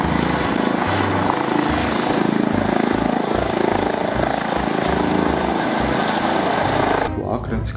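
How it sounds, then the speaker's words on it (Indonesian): A loud, buzzing toy helicopter rotor whirs steadily for several seconds under a lively voice, then cuts off abruptly near the end. "Wadidaw, di sini ada helikopter."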